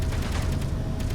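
A Gatling gun in Space Engineers fires a fast, continuous burst of rapid shots, a dense rattling fusillade lasting about a second at moderate level.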